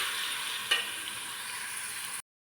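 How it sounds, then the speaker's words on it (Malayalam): Chopped onions sautéing in oil in a pan for an egg roast, a steady broad sizzling hiss close by with one brief stir knock, stopping abruptly near the end. "നമുക്ക് സവാള വഴന്നിട്ട് നമുക്ക് നന്നായിട്ടൊന്ന് വഴറ്റിയെടുക്കാം."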